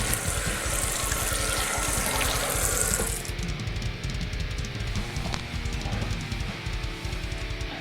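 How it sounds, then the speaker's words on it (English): A Parker adjustable injector single edge razor gets rinsed under a running tap, with steady close water rushing that changes tone partway as the flow shifts, without talk. "So we're gonna give this a quick rinse."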